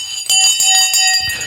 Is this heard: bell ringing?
yes